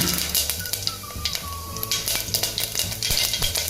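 Cumin seeds hit hot oil in a pressure cooker and sizzle loudly and close, with a continuous frying crackle and the scrape and clink of a stirring spoon against metal.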